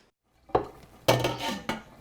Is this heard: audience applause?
no